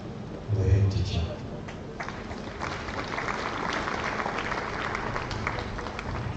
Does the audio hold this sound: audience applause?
yes